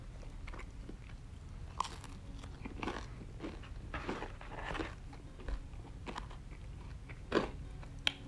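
Close, quiet chewing of thin, chewy Neapolitan-style pizza crust that is slightly crisp, with soft irregular bites and crunches and no talking.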